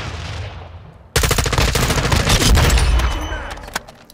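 Automatic M4 rifle fire in Call of Duty: Modern Warfare erupts suddenly after a quiet second, a loud rapid burst of shots that tapers off with a few trailing pops.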